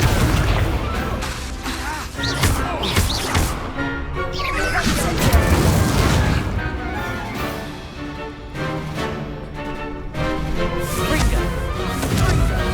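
Confringo spell explosions from a Hogwarts Legacy video game fight, a run of booming blasts and crashing bursts over a busy loud battle mix with effects and music, no clear talk.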